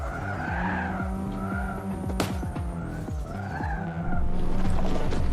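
Tires skid and squeal continuously as a car slides loosely around a racetrack in a video game, layered over a revving engine, with no voices.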